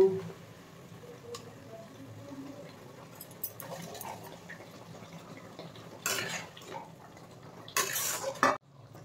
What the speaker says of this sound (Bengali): এবার গ্রেভিটা ফুটে এসছে, এবার ভেজে রাখা ছানার কোপ্তাগুলো দিয়ে দেব।